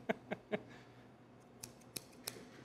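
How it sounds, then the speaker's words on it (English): Scissors snip through a fish, making three close, crisp clicks at the start and then several lighter snips spaced apart, all quiet and near, with no talking. "Scissors."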